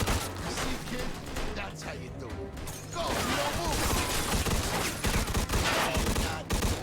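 Dense gunfire fills a shootout in the Mafia 2 Definitive Edition video game, rapid overlapping shots in long loud volleys with brief lulls, while someone talks over it.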